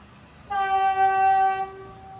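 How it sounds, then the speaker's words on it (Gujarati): Trial run of a metro train arriving, with a single sustained horn blast of about a second, a clear harmonic tone that starts abruptly over quiet background hum and then fades. "મેટ્રો આવી."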